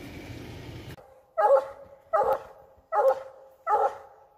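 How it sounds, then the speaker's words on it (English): A hunting dog that has treed game barks four times at an even pace near a road. The barks come from a middle distance and are clearly heard over an otherwise quiet background. "I got Chance apparently treed here by the road"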